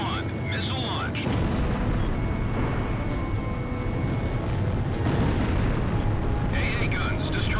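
Missile strikes blow up anti-aircraft guns in the flight combat game Ace Combat Zero: The Belkan War, a dense roaring rumble of explosions over continuous jet engine noise, with sharper blasts near the start and end.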